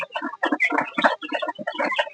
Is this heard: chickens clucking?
yes